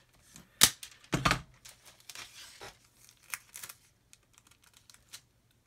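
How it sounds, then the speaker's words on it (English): Parcel tape is pulled off the roll and wrapped around a cardboard box in sharp, close ripping bursts with crinkly scrapes and quiet taps between them. "And then we can come along with our parcel tape and go all the way around."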